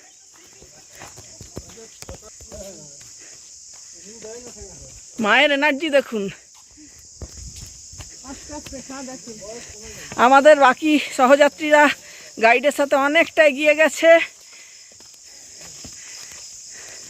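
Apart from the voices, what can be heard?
crickets chirping in forest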